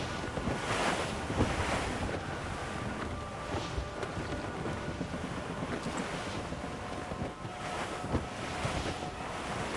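Squall winds buffet a sailing ship at sea in Assassin's Creed, with waves surging and crashing beneath a roaring, gusty rush of wind that swells and eases in loud, continuous waves.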